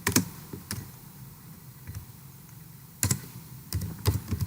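Quiet keystrokes on a computer keyboard come in short irregular clusters with pauses between, close and soft, with no talking.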